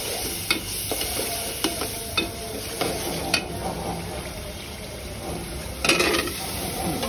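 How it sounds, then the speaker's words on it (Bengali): Spice paste with turmeric and chili powder stirred and frying in a pan for a Bengali prawn and taro dish, a steady close sizzle with intermittent scraping spatula strokes and light metal clinks. "এবার মশলাটা খুব ভালো করে কষিয়ে নেব আমি।"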